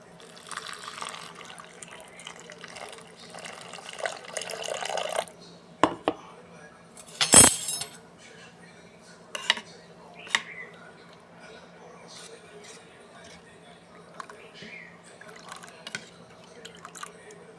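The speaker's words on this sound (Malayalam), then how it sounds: "ഇനി ഇത് നമുക്ക് പുളിവെള്ളം ഒഴിച്ച് കലക്കി വെക്കാം." Tamarind water poured into sambar powder and stirred for a Kerala-style sambar, giving soft liquid trickles and scattered clinks of a spoon against a pot or bowl, fairly quiet and close, with brief sharper knocks in the middle.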